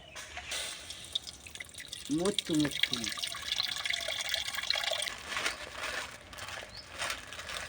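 Water pours and splashes into a pot while chowmein is being cooked, a close, running liquid sound with dripping. A voice speaks over it partway through.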